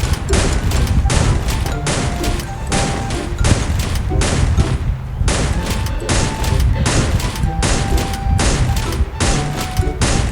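An M590 pump shotgun fired repeatedly in a video game, loud heavy blasts in quick irregular bursts with a brief pause midway, each shot booming with a sharp crack.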